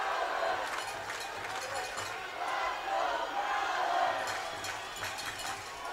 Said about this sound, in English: Let's go Prowlers chants coming down from the crowd at McMorran